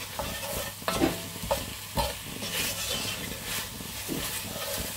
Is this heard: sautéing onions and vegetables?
yes